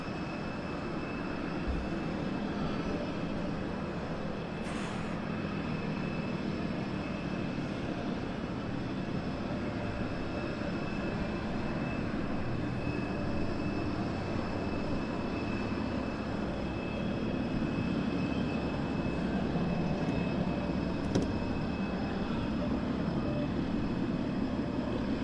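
Spitfire aircraft taxiing out at Southend Airport, a distant, steady piston-engine drone rumbling continuously with little change in loudness, heard alone with no talk.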